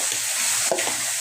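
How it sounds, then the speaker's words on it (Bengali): A fish head fries in a pan of hot oil, giving a steady close sizzle with a brief clink or stir partway through and no voices. "মাছের মাথা ভাজা হয়ে যাচ্ছে"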